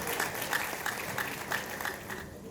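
Audience applause as a speaker walks on stage at a data conference panel session, steady moderate clapping throughout that fades off near the end.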